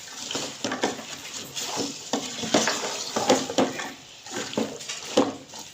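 Turnips and peas are stirred in a pan with a spatula, giving a steady run of scraping strokes over a soft sizzle of frying. The sound is close and fairly loud, with no voices.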